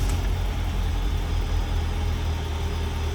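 A 1961 Mercedes 190SL engine idles steadily while warming up on the choke, a constant, close low rumble with no talk over it.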